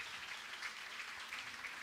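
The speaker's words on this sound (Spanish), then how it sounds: "Otro aplauso para ellos" Audience applause for two barbers invited onstage, a steady even clatter of many hands clapping continuously throughout, fairly close and moderately loud, with no voices over it.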